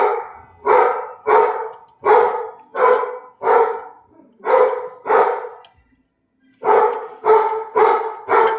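A dog barks repeatedly and loudly up close, about eleven harsh barks in an uneven rhythm with a short pause near the middle, no talking.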